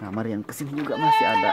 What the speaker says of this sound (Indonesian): Oh, bunyi dia, mbek katanya.